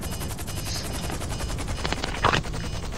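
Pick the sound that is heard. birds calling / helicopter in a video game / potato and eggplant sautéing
helicopter in a video game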